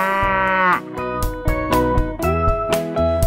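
A cow moos with a drawn-out call, loud and close, set within a children's nursery-rhyme song over a steady musical beat.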